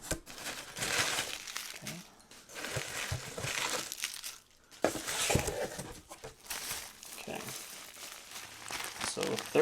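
Plastic bag and bubble wrap crinkle and rustle in close, continuous bursts while an action figure package is unwrapped, with a couple of brief pauses and talk over the handling.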